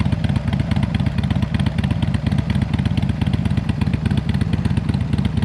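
Small portable tyre inflator powered from a motorcycle's power socket, its compressor chugging in a fast, steady rapid pulse close by, loud and continuous with no talk.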